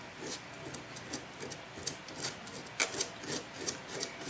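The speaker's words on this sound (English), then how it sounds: "I'm just lightly scratching the surface there with some wet or dry sandpaper" Wet or dry sandpaper lightly scratching a surface during a fiddle and bow repair, soft quick rasping strokes in an irregular rhythm, close and quiet.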